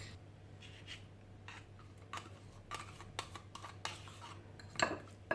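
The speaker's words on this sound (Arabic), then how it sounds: "غادي نحرك هاد الشوكولات مع هاد الياغورت الطبيعي تينسجموا مزيان" A utensil stirring melted chocolate and natural yogurt in a bowl, making irregular clinks and scrapes against the bowl. The strokes grow a little louder toward the end, and no one speaks.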